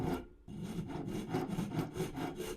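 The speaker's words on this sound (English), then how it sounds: "Might just use the Shinto. It's a little bit gentler, believe it or not," A Shinto rasp with fine teeth shaves the corner off a wooden acoustic guitar neck blank, giving a steady, close rhythmic scraping of strokes after a brief pause at the start.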